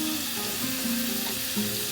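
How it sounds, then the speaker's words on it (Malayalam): Paneer cubes frying in melted butter in a pan, a steady close hiss and sizzle with faint crackles throughout and no talk. "അതിനകത്തേക്ക് നമുക്ക് ഈ പനീർ ഇട്ടിട്ടൊന്ന് ചെറുതായിട്ടൊന്ന് ഫ്രൈ ചെയ്തെടുക്കാം"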